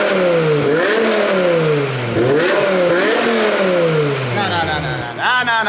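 A BMW E60 M5 V10 with an aftermarket exhaust and its valves closed revs hard again and again, each pull climbing and dropping in a rising, wailing sweep, loud and close, with a sharper rev at the very end.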